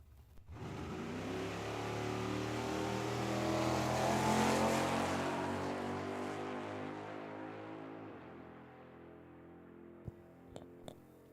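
A Chevy II drag car, driven by Haley Hanger, launches and accelerates hard down the Tucson Dragway strip. Its loud engine roar builds and then fades as it pulls away, and a few sharp pops follow near the end.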